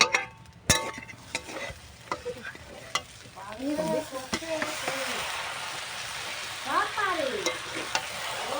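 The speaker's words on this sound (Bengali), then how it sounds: "দেখো কত সুন্দর চাউমিনটা নাড়তেছে" Chowmein frying in a pan and being stirred, with a steady sizzle, repeated spatula scrapes and knocks, and short voices talking over it partway through.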